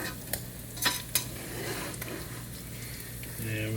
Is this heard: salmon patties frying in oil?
yes